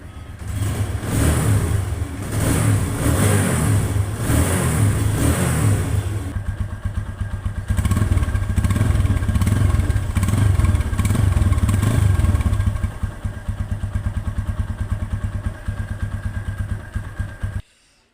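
A blue 2021 TVS Apache RTR motorcycle, close by, idling with a steady rumble, then revved hard several times with rising roars before it falls back to an even idle, with no talk.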